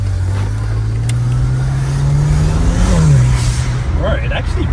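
An old BMW 335 with about 177,000 km, just recovered from impound, its engine droning low and steady as the car moves off, with a brief rise in pitch partway through and a voice speaking over it.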